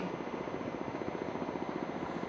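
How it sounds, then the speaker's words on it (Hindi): A Kamov 31 naval helicopter flies past during a navy display over the sea, its steady rotor thump and engine roar loud and continuous throughout, with no voices. "बाईं तरफ से मंच के सामने आ रहा है अगला हेलीकॉप्टर कामोव 31"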